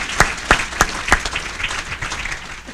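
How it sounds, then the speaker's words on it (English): A small audience applauds a sponsor, Vantage West, at an event, with a few loud, sharp claps up close followed by a looser spattering of clapping that tapers off. "So a round of applause to Vantage West."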